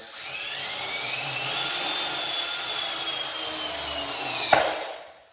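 A power driver whines steadily as a screw is driven into a deck board with the Pro Plug hidden fastening system, ending in a sharp pop near the end as the countersink seats, then spinning down.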